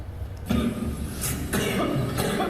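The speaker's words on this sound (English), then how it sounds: "The body of a teen spasming in a coughing fit on a ventilator just to breathe." Several harsh coughs burst out in quick succession as a teen on a ventilator has a coughing fit, close and strained, over a background of breathing and machine noise.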